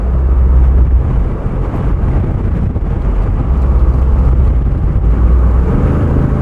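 A 2024 Jeep Wrangler 392 with a Hemi V8 rumbles loudly while driving, a deep, continuous low bass drone with steady road and wind noise and no talking.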